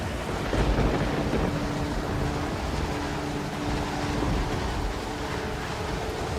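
A thunderstorm brings heavy, dense rain hiss with low rumbling swells of thunder, loud and continuous throughout.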